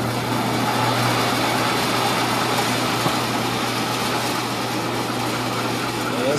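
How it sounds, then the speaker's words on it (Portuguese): An old, weak motor, reworked with a replaced coil, runs steadily in a homemade setup, giving a loud continuous hum with a low drone that holds evenly throughout. "Meu motor aqui ficou meio fraco porque depois que eu mandei reformar"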